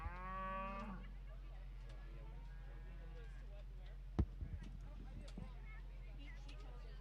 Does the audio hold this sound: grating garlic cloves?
no